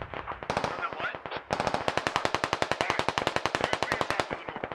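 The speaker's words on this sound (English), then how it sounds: "I think Rainbow might be shooting at, these guys" Rapid automatic gunfire from the video game Squad rattles off in a loud, close, continuous burst of evenly spaced shots after a shorter opening volley.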